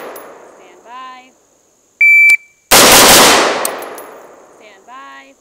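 A rifle fitted with an EOTech EXPS 3-0 sight fires on a range. Single loud gunshots ring out with long decaying echoes, alongside a short electronic beep and faint background voices.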